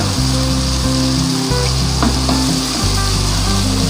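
Onions sizzle steadily in a pan with ginger garlic paste for a chana anda cholay dish, a loud continuous frying hiss with faint stirring throughout, close up and without talk.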